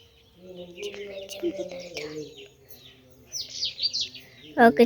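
Sparrows chirp in bright, quick bursts on a village morning, rising over a background of people talking nearby and a few soft clucking sounds.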